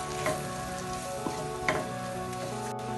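Flour and finely chopped chilies fry in a pan, giving a steady, quiet sizzle with a few soft crackles and occasional stirring scrapes.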